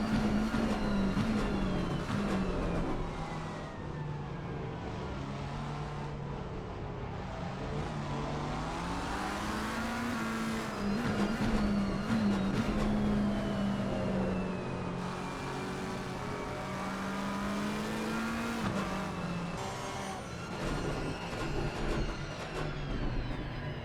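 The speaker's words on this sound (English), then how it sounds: "The clanks and the thuds of your car as you wrestle it over curbs and around the track" A race car engine in the sim racing game Assetto Corsa Competizione revs hard and continuously as the car is driven over curbs, its pitch rising and falling through gear changes, loud and close with no talking.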